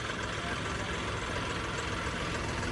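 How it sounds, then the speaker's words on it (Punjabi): A John Deere 5310 tractor engine idles with a steady, loud, low rumble close by. The chugging holds an even rhythm throughout. "ਟਰੈਕਟਰ ਸਟਾਰਟ ਹੋਇਆ ਜਮਾਂ ਹੀ ਕਾਰ ਵਾਲੀ ਉਹ ਫੀਲਿੰਗ ਆਉਂਦੀ"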